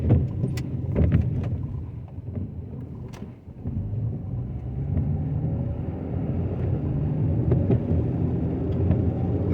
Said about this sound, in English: I will be driving through the city of Prattville, Alabama